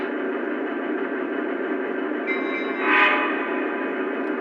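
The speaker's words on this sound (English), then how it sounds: "That'll give us the whistle and bells and some crew talk throughout the running of the engine." Lionel BNSF SD70MAC model train running with sound effects, a steady mechanical hum and rumble with a brief tonal whistle-like burst near the end, moderately loud and continuous.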